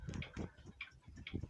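A mechanical clock ticks in a room full of clocks, giving a quick, soft, uneven run of ticks and tocks, faint and close, with no speech.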